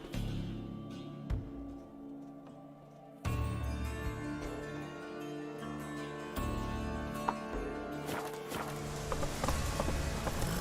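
Roach, a horse in The Witcher 3, clip-clops in a steady walking rhythm of hoofbeats over an ambient game soundscape with music-like tones, growing fuller partway through.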